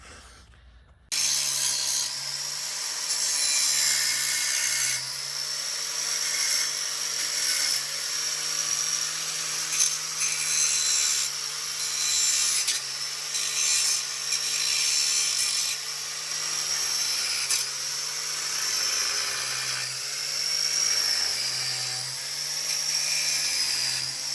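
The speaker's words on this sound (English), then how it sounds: "I've done lots and lots of grinding" A handheld grinder bites into stuck flex plate bolts on a Ford, a loud, high-pitched continuous whine that wavers as pressure changes, with brief dips and surges over about twenty seconds, no talking.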